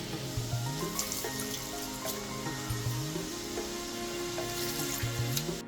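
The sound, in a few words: vinegar boiling in a pan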